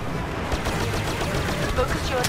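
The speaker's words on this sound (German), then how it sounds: "jetzt auch hier so eine fette Explosion macht einfach null Objektschaden" Rapid, dense gunfire and blasts fill a brief burst of Star Wars Battlefront beta gameplay, loud and continuous, with a voice faintly mixed in.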